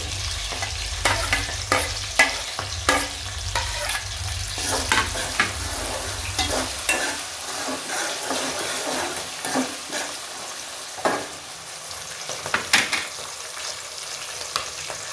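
Dry red chillies sizzle in hot oil for tempering, a loud close frying hiss with a low rumble for the first half, then lighter crackles and spoon scrapes continuing on their own.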